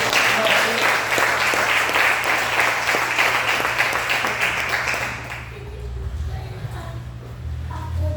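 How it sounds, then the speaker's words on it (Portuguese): A church audience gives a burst of applause, dense clapping that holds loud for several seconds and then fades, giving way to quieter room noise and faint voices. "vamos receber uma salva de palmas"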